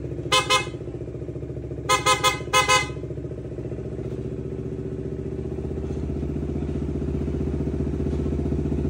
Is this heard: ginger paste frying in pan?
no